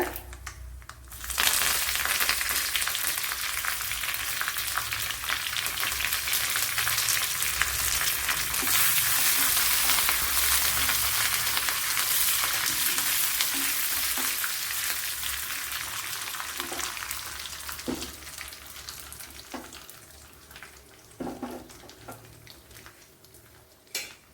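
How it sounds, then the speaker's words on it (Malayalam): Mustard seeds and dried red chillies sizzle and crackle steadily in a tablespoon of hot coconut oil for an egg stew, a loud close frying hiss with scattered pops and a few utensil clicks, fading slightly near the end. "വൺ ടേബിൾ സ്പൂൺ വെളിച്ചെണ്ണ ഒഴിച്ചു കൊടുത്തിട്ടുണ്ട് അതിൽ കടുക് ഇട്ട് കൊടുത്ത് ഇതിലേക്ക് മൂന്നാല് വറ്റൽമുളക് ഇട്ട് കൊടുക്കുക"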